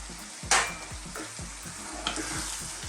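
Spaghetti tossed into a hot pan of puttanesca sauce, a low bubbling sizzle with two sharp splashy scrapes as the pasta drops in and gets mixed, near and without speech.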